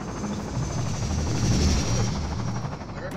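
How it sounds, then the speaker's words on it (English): A steady, loud helicopter rotor drone in Half-Life 2, with a thick low rumble that swells slightly in the middle and carries on without a break. "I heard a helicopter"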